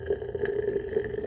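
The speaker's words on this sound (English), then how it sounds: "I'm going to pour the tea so that it can steep while we chat" Boiled water poured over herbal tea in a cup, a steady gurgling fill with a rising liquid tone that runs unbroken, close and moderately loud, with no talking.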